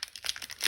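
Crinkly plastic wrapper of a Magic: The Gathering Adventures in the Forgotten Realms booster pack being torn and crumpled open, a short close run of bright rustling crackles that swell near the end.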